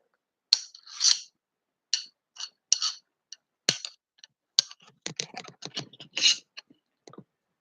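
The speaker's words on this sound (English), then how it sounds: "They just make like little jingle noises as you walk." Ice axes jingle and clink as foley, in a string of short, sharp metallic taps and rattles with silent gaps between them, close and fairly quiet, with no voices.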